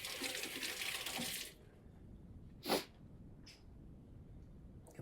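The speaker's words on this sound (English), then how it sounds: "let me rinse my hands off real quick" A kitchen tap runs briefly while hands are rinsed during keto brownie baking: a loud, steady water rush lasts about a second and a half, then cuts off, followed by a quiet sniff and faint clicks.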